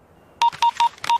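In a Telugu movie scene, someone presses four telephone keypad keys, giving four short, bright beep tones in quick, even succession. They are clear and close, with near silence around them.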